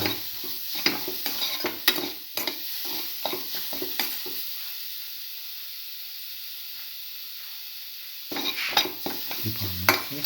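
Cinnamon scrambled egg and coconut being stirred in a frying pan with a spatula, giving irregular scraping clatters over a soft sizzle, with a quieter stretch of plain hiss before the stirring resumes.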